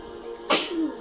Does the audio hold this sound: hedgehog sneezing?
yes